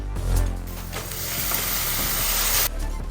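Masala with Kashmiri chilli powder sizzles in a hot pan in a home kitchen, a loud, close crackling hiss broken by rough scraping and stirring rattles, with no voices.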